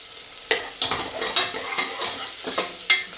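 Food frying in a pan for an egg and chicken curry, with a steady sizzle broken by several sharp scraping stirs of a spatula, close and fairly loud, with no talk.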